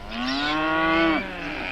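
Cows mooing as a farm sound effect: one long, loud, close bellowing moo that holds steady and then drops off, with a softer lowing continuing underneath and no talk.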